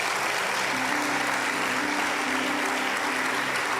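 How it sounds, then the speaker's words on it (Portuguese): A church congregation at a Portuguese-language service claps together in a thick, even burst of applause lasting a few seconds, with a faint sustained tone from instruments or a held note running underneath. "Dá uma salva de palmas a Jesus por isso."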